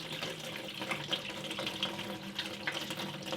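Tank sealer poured into the fuel tank of a Datsun 280Z, a steady liquid splashing and gurgling with small bright drips, moderately loud and continuous with no voices.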